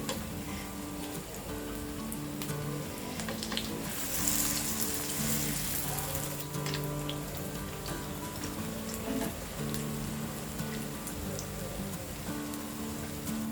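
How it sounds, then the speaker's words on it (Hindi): Cabbage appam frying in a pan for a breakfast dish, a dense, steady sizzle and crackle like rain on a surface, holding close and even throughout with a brief louder swell, no talking. "दो मिनट एक तरफ फ्राई करने के बाद हम इसे फ्लिप करेंगे।"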